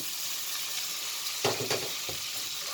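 Two tablespoons of flour hit melted butter in a pan on the stove and begin a steady, soft sizzle, with a brief louder burst of frying and stirring as it is added.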